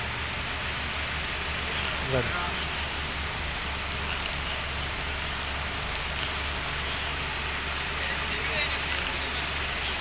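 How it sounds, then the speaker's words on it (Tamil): Heavy rain pours steadily on the mountain road to Sabarimala, a dense continuous hiss of drops close by, with a voice briefly heard over it. "கிட்டத்தட்ட மூணு மணி நேரமாக பெஞ்சிட்டு இருக்குது மழை"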